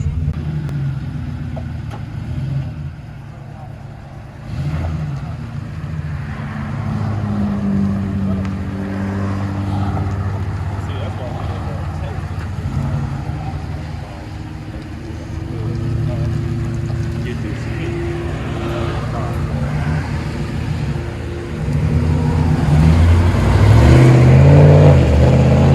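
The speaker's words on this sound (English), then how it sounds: "Ford F-150 duals, Flowmaster with turn downs." Rumbling V8 exhaust from a 2007 Ford F-150 5.4-liter Triton with dual Flowmaster mufflers and turn-down tips, a steady low drone that swells louder near the end as the engine revs.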